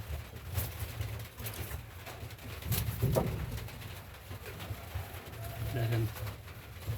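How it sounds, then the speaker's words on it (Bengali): Two big pigeons coo softly in low repeated bursts, faint and close, with a voice talking over them. "বিগ সাইজের কবুতর দুটো সেল হবে"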